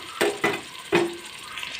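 Sliced onions cooking in hot groundnut oil with bay leaf and star anise, heard as three sharp stirring scrapes and splutters against the pan, close by with quiet sizzling between them.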